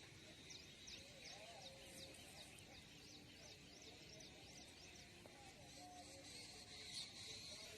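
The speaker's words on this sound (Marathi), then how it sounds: "तो आवाज पा ते किलकिलाट पक्ष्यांचा" Birds chirping in village fields on a morning in the countryside: faint, distant, repeated high tweets and short calls over a quiet outdoor hush, with a soft voice speaking now and then.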